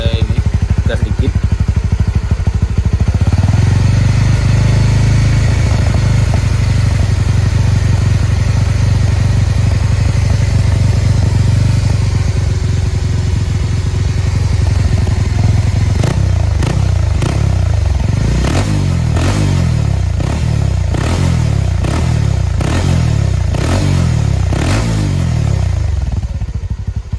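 A Honda CB150R motorcycle fitted with a Ninja 250fi exhaust idles with a low, steady rumble, then gets a series of short throttle blips, each rev rising and dropping back in quick repeated bursts up close.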